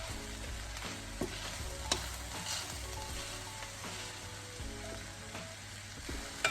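Seafood and bok choy stir-fry noodles sizzle steadily in a hot pan, a continuous frying hiss broken by occasional clatters of stirring, close and fairly loud with no talking.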